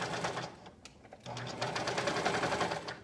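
A sewing machine stitches binding onto a waffle-knit cardigan in fast, steady, close bursts, with a brief pause before it resumes at full speed.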